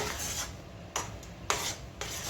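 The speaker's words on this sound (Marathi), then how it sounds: "आपल्याला हे हलवत राहायचं बिलकुल थांबायचं नाही हलवत राहायचं" A sweet mixture is stirred in a kadhai for a Mumbai sweet, giving soft scraping rubs against the pan with brief sharper scrapes recurring about every half second, close and quiet with no voices.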